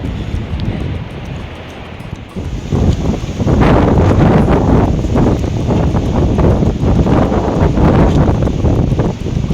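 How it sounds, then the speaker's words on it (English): Strong outdoor wind buffeting the microphone, loud rumbling gusts that swell after a few seconds and keep roaring steadily, with no speech over it. "As you can see, the wind is pushing me."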